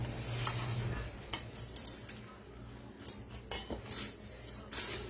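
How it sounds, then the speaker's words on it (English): Grinch popcorn being stirred in a bowl, with a run of close clinks and light scrapes of a utensil against the dish over a soft background hum, no talk. "And now just stir popcorn."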